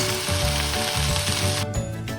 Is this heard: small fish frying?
yes